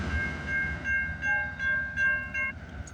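A CN freight train with a DPU locomotive passing in snowy weather, a low rumbling roll with tonal squeals and ringing that swell and fade several times, close and fairly loud, no talking.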